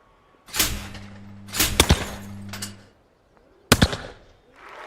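Shotgun blasts at an Olympic clay shooting event in the London 2012 video game: four sharp, loud shots in two pairs with echoing tails, a short quiet gap before the last shot, and no talk.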